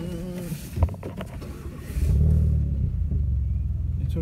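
A car engine with its exhaust removed idles after a cold start with a loud, rough, open rumble, swelling into a deeper roar partway through, with a few knocks early on.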